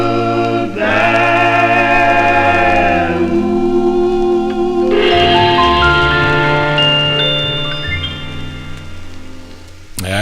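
A 1955 doo-wop record plays with layered vocal harmonies over a band. Sustained voices swell, break, then return before the music fades near the end.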